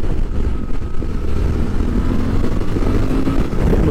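A 2023 Suzuki V-Strom 800 SE with a twin-cylinder engine, heard while riding: a loud, steady engine drone mixed with road and wind rumble, continuous throughout.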